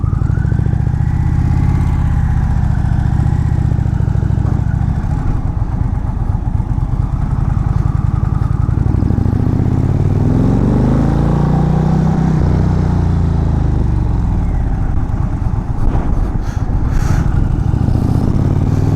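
An Indian Pursuit motorcycle engine runs loud and steady close by, with a deep continuous rumble that rises and falls as the throttle shifts, heard alone without talk.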